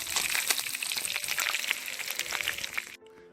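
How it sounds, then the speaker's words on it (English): Fish frying in a pan with oil, a dense, bright crackling sizzle close up that holds steady, then drops away abruptly near the end to a faint hiss. "sneak peek of my fish frying"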